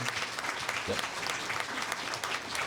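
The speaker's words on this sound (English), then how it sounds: "let's get one more round of applause for all of our legislatures today" Sustained round of applause from a luncheon audience honoring legislators at a Kent Chamber event, dense steady clapping filling the room from start to finish.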